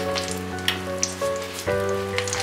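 A cut piece of large potato slides into a hot frying pan with eggplant already cooking, setting off a steady close sizzle with a few brief crackles and pops.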